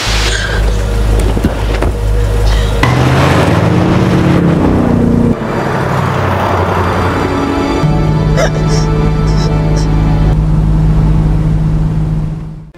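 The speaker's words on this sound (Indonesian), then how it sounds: "Dean yang melihat Kelly syok langsung menyalakan mobil dan meminta Kelly kabur" A car engine turns over and catches, then runs loud and close with a steady rumble that shifts in pitch as it settles into a constant drone.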